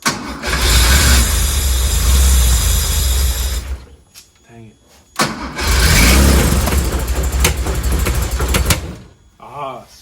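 A 1973 Porsche 911 engine cranks loudly in two long bursts separated by a pause, catching and sputtering as it tries to start, with a person speaking briefly in the gap and at the end.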